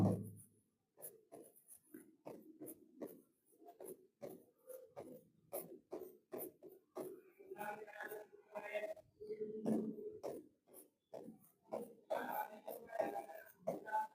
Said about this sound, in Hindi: तो देखो ये स्वर लिख रहा हूं मैं